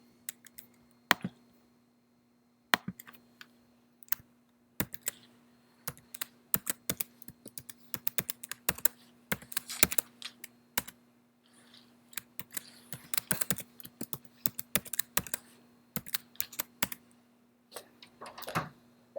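A password tapped out on a computer keyboard, close and clear: irregular bursts of crisp key clicks with brief pauses between runs, over a steady low hum and no talk.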